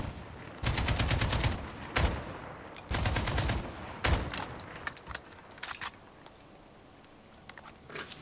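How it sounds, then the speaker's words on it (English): Gang gunfire in Port-au-Prince, Haiti cracks out in rapid automatic bursts, two long rattling volleys with sharp single shots between, then scattered fainter pops as it tapers off. "we have to wait behind this wall until the shooting stops"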